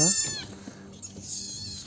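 A cat meows in a countryside village setting, giving one clear, close meow at the start, followed by quieter rustling and soft background sounds.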